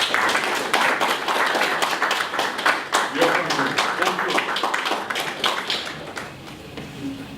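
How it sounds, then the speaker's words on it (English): A conference audience at a science talks event claps in a dense, steady burst lasting several seconds, individual hand claps popping through the wash before it thins and tapers off near the end. "Give yourself a round of applause."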